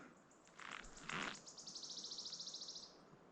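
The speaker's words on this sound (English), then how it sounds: "And the bird sounds." Birds calling beside a forest hiking road among pines: a few brief chirps, then a rapid, evenly pulsed trill that runs for a couple of seconds and fades, faint and distant over quiet outdoor background.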